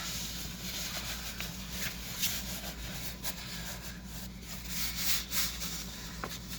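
A fabric seat cover is worked by hand over a 2007-2013 Toyota Tundra 40/20/40 headrest, giving close, steady rubbing and rustling with small scuffs throughout.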